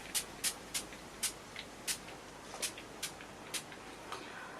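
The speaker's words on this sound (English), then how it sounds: "shake it a little and then do a spray on your T-zone and then exit over your face" Makeup setting spray misted onto the face, a series of about a dozen short, soft spritzes in an uneven rhythm, close but faint over a quiet room.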